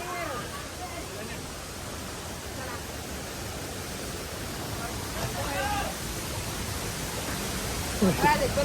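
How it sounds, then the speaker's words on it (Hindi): The waterfall at Gahniya picnic spot in Korba, Chhattisgarh, rushes in a constant, loud broadband roar close by, with people calling out and talking over the water. "यहाँ तो और शानदार झरना है"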